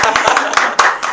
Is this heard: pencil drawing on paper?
no